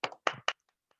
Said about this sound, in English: A round of applause for Ken, please.